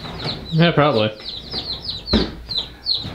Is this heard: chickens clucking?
yes